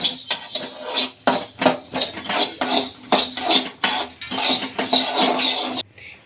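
Dried red chillies roasting in a pan are stirred steadily, giving a near, busy run of scraping and clinking metal-on-pan sounds with no talk, ending abruptly.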